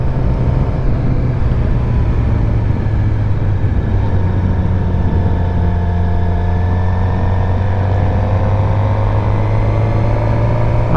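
A motorcycle engine drones loud and steady during a first ride through neighborhoods and back roads, with a humming low note and faint rising tones layered over constant rushing noise, heard up close without speech.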